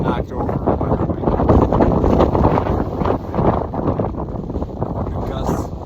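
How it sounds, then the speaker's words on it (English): Strong wind gusts buffet the microphone on the summit of Mt. Princeton, a Colorado fourteener. The roar is loud and rushing, swelling and easing in waves, with a brief brighter burst at the end. "I just got knocked over by the wind."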